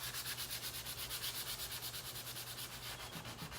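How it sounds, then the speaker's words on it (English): Sandpaper rubbing by hand over black painted letters on a wooden sign, a steady rhythmic scratchy back-and-forth sanding at close range that continues without a break, with no voices. "I am going to actually take my sandpaper and go right over top of my black"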